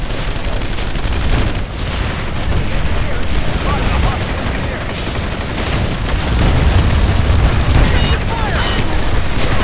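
Dense gunfire and explosions fill a Planetside 2 online shooter battle: a loud, unbroken barrage of shots with booming blasts rumbling underneath, and a voice briefly heard in the mix.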